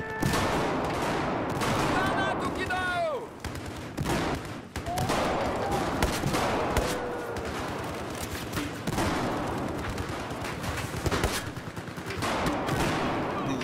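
Bursts of rapid gunfire in Battlefield 4, dense fusillades and machine-gun volleys crackling loudly across the whole stretch with short gaps, mixed with game sound effects.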